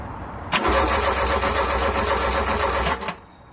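A 1969 Ford Capri, fitted with a new carburettor, cranks and fires up, a loud close engine roar held for about two and a half seconds before cutting off abruptly.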